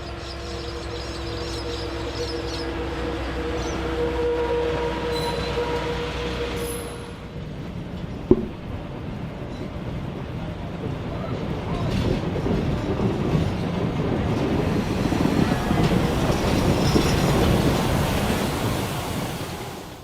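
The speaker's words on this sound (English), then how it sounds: "With the train stopping at Stanthorpe for 30 minutes" A train on the Southern Downs Steam Railway pulling into Stanthorpe station gives a steady low rumble, then a broader rolling clatter of wheels on rail with one sharp metallic click midway, close and continuous with no talking.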